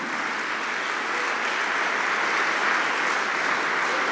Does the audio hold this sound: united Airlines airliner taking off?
no